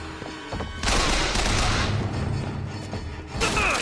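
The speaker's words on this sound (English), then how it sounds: "Where are they shooting at me from?" Loud bursts of gunfire in the video game BioShock Infinite, with a dense volley of shots lasting about two seconds, a brief lull, then another burst near the end.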